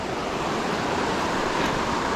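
Fast-moving creek water rushes past in a steady, broadband wash, close and continuous over a brief stretch with no talking.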